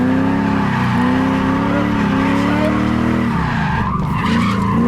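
Ford Falcon V8 sliding under handbrake, tyres skidding with a loud sustained squeal over a steady engine drone for the whole stretch, close and continuous.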